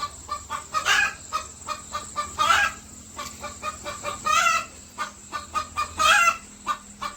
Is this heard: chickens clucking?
yes